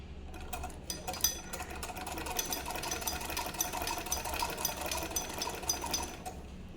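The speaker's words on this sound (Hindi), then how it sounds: "अब इसकी पूरी पट्टी पे सिलाई करेंगे" A sewing machine runs steadily as it stitches along a fabric strip, a fast continuous mechanical chatter heard close up and alone.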